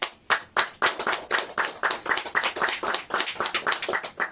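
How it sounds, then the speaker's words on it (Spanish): Crisp, evenly paced hand clapping at a church sermon on the Bible, roughly a dozen sharp claps in steady rhythm, close and fairly loud, with no one speaking over it. "Señor, un aplauso."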